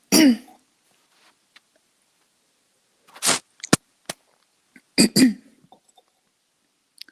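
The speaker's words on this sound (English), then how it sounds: "Sometimes when I'm clearing energy, I cough and clear my throat." Someone near the mic clears their throat and coughs several times in short, scattered bursts, with quiet pauses between them.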